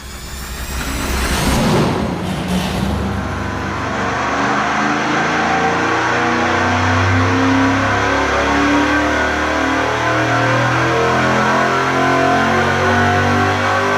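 A stock Chevy 305 V8 running on SAE 60 weight oil revs hard on a dyno, a sharp rise in engine roar settling into a loud, sustained high-rpm drone that holds steady to the end.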